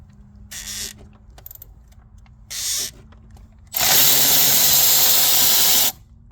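A seized bolt on a 2006 Ford Ranger is worked loose with a tool, giving short bursts of grinding and ratcheting followed by a longer, loud, harsh squealing stretch as it turns.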